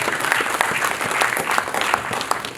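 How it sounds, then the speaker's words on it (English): A crowd at a youth day conference claps for the band, a steady, dense burst of applause with sharp individual claps throughout, fairly close and loud. "Please, can we clap for our band of today?"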